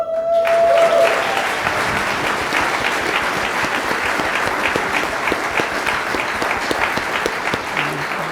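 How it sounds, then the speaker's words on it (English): An audience at an evening event applauds as a guest is asked to stand, sustained broad clapping from a large crowd, loud and even throughout, with a brief tone sounding at the very start. "I would like for us, before I actually go into what offices she runs, to give an applause"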